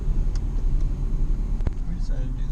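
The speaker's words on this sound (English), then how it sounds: "there's a car coming." A car passes on a road in Napa with a low, continuous engine rumble that holds steady, close and moderately loud, with a brief thump in the middle.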